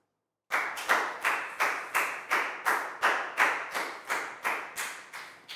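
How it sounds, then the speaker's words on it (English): Students in a Year 4 maths classroom clapping together in a steady rhythm: about a dozen sharp, evenly spaced claps, fairly close and loud, with no talking. "a big high five and round of applause"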